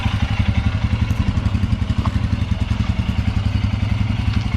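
A Royal Enfield Scram 411 single-cylinder engine pulling slowly at low revs, a loud, close, steady rhythmic thumping chug with no talk.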